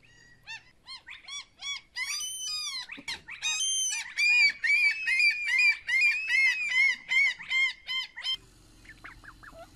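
A bird sings a fast, bright series of chirps and warbling whistles, loud and close, continuing nearly nonstop before tapering off.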